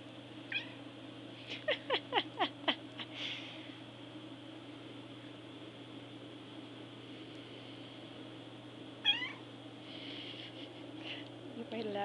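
A cat lets out a rapid series of short meows, then a louder cry later, over a steady low hum.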